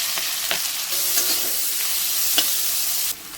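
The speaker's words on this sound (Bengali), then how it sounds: "পেঁয়াজ লাল লাল করে ভাজা হয়ে গেছে" Chopped onions fry in oil in a pan with bay leaf and green chilli, a steady close sizzle with light stirring clicks and a few brief spatters, the hiss cutting off abruptly near the end.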